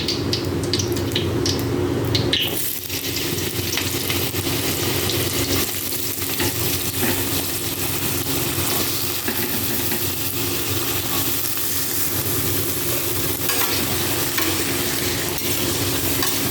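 Potatoes fry with spices in hot oil, a loud continuous sizzle under repeated stirring and scraping, with a brief splash of water at the start and no voices.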